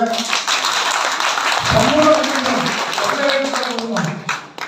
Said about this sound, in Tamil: கொஞ்சம் கைதட்டுங்க